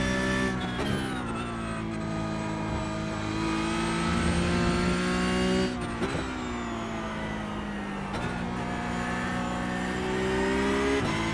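A Porsche 911 Cup car races in iRacing, its engine droning steadily at high revs with rising and falling pitch through gear changes, loud and continuous with no talking.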